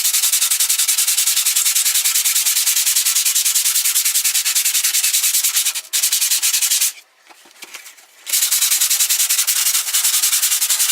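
Suzuki Bandit 1200 motorcycle rear sets rubbed with 500-grit sandpaper: a steady, rapid, close scratchy rasp of back-and-forth strokes that runs almost the whole time, with a short pause in the middle.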